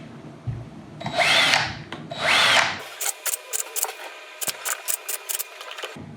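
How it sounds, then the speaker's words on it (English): A power drill with a 4mm bit bores holes in a plastic respirator mask, two long whirring bursts followed by a rapid series of short drilling pulses, close and loud. "let's go in here from the clean side and just drill these through a little bit, just to make them a bit nicer"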